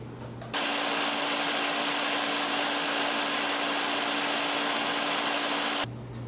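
A blender runs steadily for about five seconds, loud and constant with a whirring hum, blending frozen bananas and soy milk into a smoothie, starting and stopping abruptly.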